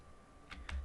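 Two quick computer keyboard key presses, close and crisp, a brief gap between them, with no talk.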